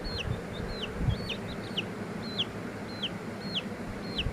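Chickens newly kept at home give short, high, repeated peeping clucks at a steady pace of roughly two per second, fairly close, over a constant low background murmur, with no talking.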